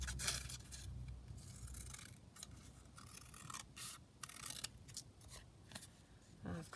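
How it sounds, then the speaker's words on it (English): Scissors snipping through a paper card during junk journal crafting, a run of short rasping cuts close up at a quiet level. "I'll just cut that down slightly further."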